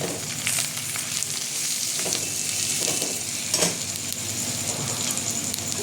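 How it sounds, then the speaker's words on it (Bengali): Chopped tomato and ground spices stirred in a frying pan for a Bengali-style mutton tarka, with a steady close sizzle and occasional spoon scrapes and stirring clatter throughout, no voices. "দিয়ে দেবো টমেটো কুচিটা, দিয়ে দেবো সব গুঁড়ো মশলাগুলো। আমি এটা ভালো করে নেড়ে নেব।"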